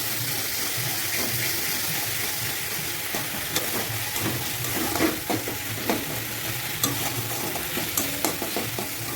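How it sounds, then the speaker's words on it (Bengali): Frying masala for a duck egg curry sizzles steadily after a splash of water goes in, with repeated scraping knocks of a spoon stirring through the pan over nine seconds. "এবার দিয়ে দেবো অল্প একটু জল দিয়ে আর একটু কষে দেবো।"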